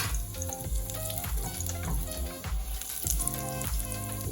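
Zucchini frying in a tablespoon of oil for carbonara crackles and sizzles close by, with a steady spitting hiss and repeated soft bursts of louder frying throughout, and no voices.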